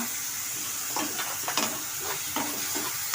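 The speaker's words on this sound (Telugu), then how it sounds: "ఇది నూనెలను కొంచెం బాగా వేగనిద్దాం" Ingredients fry in hot oil with turmeric in a pan, a constant sizzle broken by several sharp scrapes and clinks of stirring.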